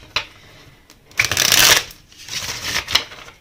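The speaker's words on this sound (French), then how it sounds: "je vais sortir d'autres cartes sur cette personne" Tarot cards are shuffled by hand in a few quick riffling bursts, close and crisp, with short pauses between them.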